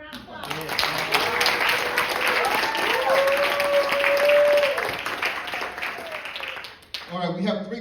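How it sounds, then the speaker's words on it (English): An audience at a youth bike awards night gives a sustained round of applause for a bicycle store, a loud steady wash of clapping with cheers and voices in it that cuts off near the end as someone speaks. "Can we give them a round of applause?"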